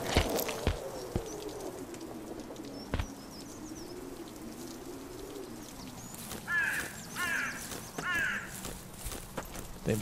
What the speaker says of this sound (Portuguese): Meu Deus, corvo maldito.